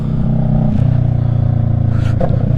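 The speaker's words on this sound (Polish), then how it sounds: "Ale dwa cylindry wcale nie brzmią źle, tym bardziej na jakimś tam głośniejszym wydechu" A two-cylinder Kawasaki ER-6f (EX 650) motorcycle engine revs loudly and close by, its deep throbbing note rising and holding steady for a couple of seconds.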